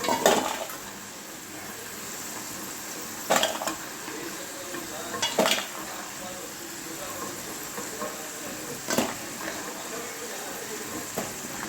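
Spices crackle as they fry in a pan, with a soft steady sizzle up close and a few louder scraping stirs, all fairly quiet.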